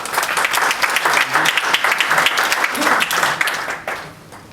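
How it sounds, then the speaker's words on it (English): An audience at a water-supply investment presentation gives a round of applause, loud and sustained, fading out at the end, with faint voices in the crowd. "they deserve a round of applause"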